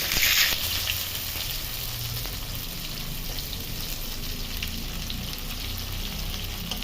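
Chopped onion hitting hot oil in a wok already tempered with dried red chillies, cardamom, bay leaf and cumin for a fish-head rice dish, a loud burst of sizzle easing into a steady even crackle.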